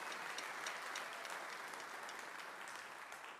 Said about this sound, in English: I really want to give them a big applause because